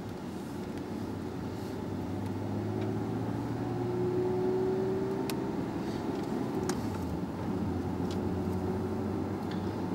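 A 2011 Porsche 911 Carrera 4 GTS on the road gives a steady, throaty engine drone heard from inside the car, its pitch rising slowly and then dropping as the driver shifts gear.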